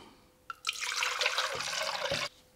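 Water is poured into a container to start a yeast experiment with sugar and brewer's yeast, a close, splashy pour of about a second and a half that begins with a small drip and ends abruptly.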